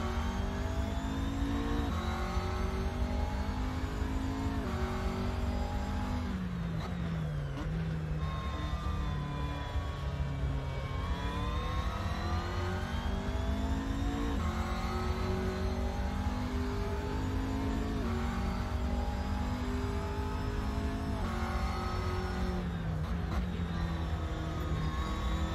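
A car engine drives continuously in the Assetto Corsa racing game, rising and falling in pitch through repeated gear changes and revs, steady and close with no talk.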